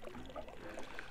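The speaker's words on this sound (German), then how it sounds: "neige die Tasse, um den Kaffee freizugeben" Coffee sloshing and trickling as a tilted cup spills it in the game Puddle, a soft continuous liquid gurgle with faint drips, fairly quiet.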